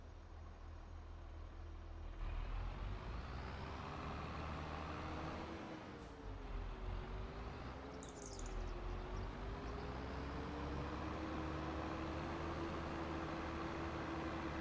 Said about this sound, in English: Is that my big tractor?